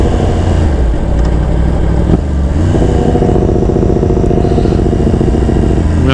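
A Yamaha R1 motorcycle engine runs loud and close, first a low burbling idle, then a brief blip, then a rougher, revving clatter that carries on steadily to the end.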